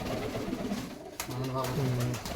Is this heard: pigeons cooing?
yes